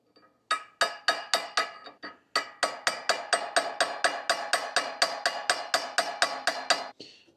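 Light hammer taps on a tractor attachment, about twenty sharp metallic knocks in a steady, fairly quick rhythm after a brief pause, close and clear with no talking.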